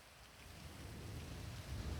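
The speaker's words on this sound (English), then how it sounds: "I hear the rain, but I think it's from outside." Rain in the video game GTA V falls as a soft, steady hiss, faint and muffled as if heard from indoors, with a low rumble swelling slightly toward the end.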